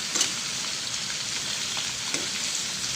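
Chayote and other vegetables frying in a pan, a continuous bright sizzle with a couple of louder stirring scrapes, close up and without speech.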